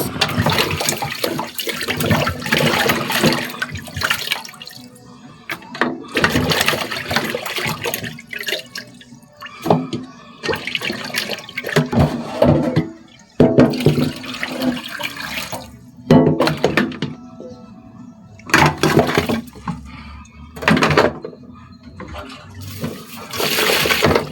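Meat bones being washed under running water, with bursts of splashing and gushing water that start and stop repeatedly, loud and close, over about twenty-four seconds with no talk.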